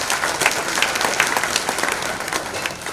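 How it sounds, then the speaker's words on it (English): A gala audience gives a round of applause for Martin Carter at a University of Guyana alumni event: full, continuous crowd clapping, moderately loud and close, with no voices over it. "please give Martin Carter a round of applause."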